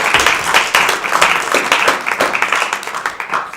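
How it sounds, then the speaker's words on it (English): An audience gives a round of applause at a Bible quiz competition, with loud, close, dense clapping throughout in uneven waves. "Give them a round of applause, please."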